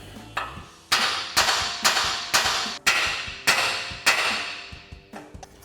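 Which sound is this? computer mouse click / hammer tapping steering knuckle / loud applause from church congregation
hammer tapping steering knuckle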